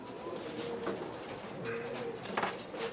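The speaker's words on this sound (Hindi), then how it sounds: "ये मेरे हाथ में कबूतर है।" A large pigeon held in the hand cooing softly, a few low throaty coos against a faint background hum, quiet and close.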